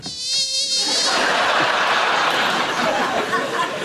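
A person imitates a buzzing mosquito with a high whining vocal drone, which quickly gives way to loud, sustained studio audience laughter.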